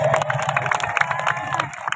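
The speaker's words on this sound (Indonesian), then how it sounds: "insya Allah tepuk tangan untuk Bukades" An audience at a religious gathering applauds, quick overlapping claps mixed with some cheering and crowd voices, fairly close and lively.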